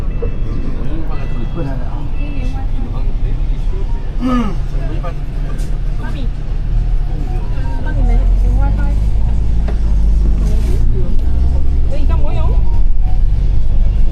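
Riding on the top deck of a bus in Hong Kong, the engine and road noise rumble steadily throughout, growing louder in the second half, while people talk over it.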